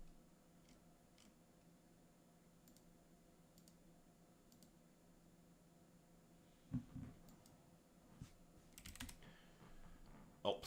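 Quiet, close typing on a computer keyboard, scattered key clicks that pick up into denser bursts toward the end, with no talk.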